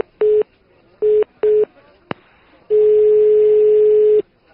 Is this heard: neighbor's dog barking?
no